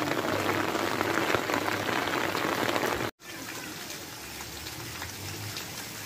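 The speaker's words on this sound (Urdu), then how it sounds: "دیکھیں جی بارش ہو گئی ہے شروع" Steady rain falls outdoors on an open courtyard where beef namkeen gosht is being cooked, a dense, even hiss of drops on hard surfaces, close and continuous, with a brief dropout midway.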